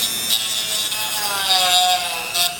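Powered sharpening tool grinding the edge of a skateboard rail flat, a loud, continuous abrasive whine with a faint tonal hum and brief rasping surges as the edge touches the grinder.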